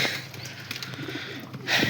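Soft cooing of red Cheena pigeons against a hissy background, with faint rustling; brief and fairly quiet, no speech.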